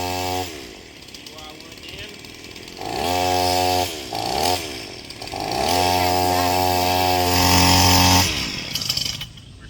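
A new Lowe's chainsaw cutting down a tree, its engine revving up and down in several surges near the microphone, with people talking at times.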